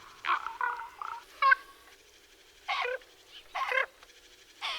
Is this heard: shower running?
no